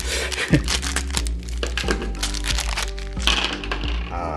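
Crinkly plastic crackles and tears in sharp bursts as a bag of dice is handled and pulled open up close, with faint rattling of dice inside.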